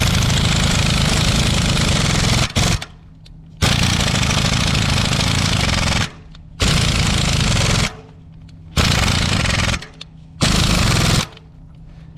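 A pneumatic impact wrench with a 1/2-inch drive socket hammers at a part on heavy equipment being torn down for rebuild. Five loud, close, rattling bursts, each a few seconds long, are separated by short quiet pauses, with no talk.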